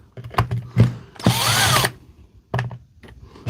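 A power drill spins briefly, in one short rising whir up close, while backing screws out of a Milwaukee tool with a terminal fault, framed by light clicks and handling taps.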